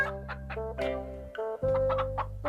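A cartoon hen clucks in short, bright, repeated calls over a steady, tonal music bed, close and clear with no talking.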